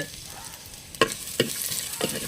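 Chopped garlic and ginger frying in oil, a soft continuous sizzle broken by three sharp scraping knocks of a spoon stirring against the pan.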